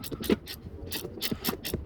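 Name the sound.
Craftsman adjustable wrench ratcheting on a bolt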